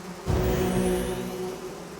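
A dense, droning buzz of many insects rises abruptly and holds steady, like a swarm hovering close by in the game Pathfinder: Wrath of the Righteous.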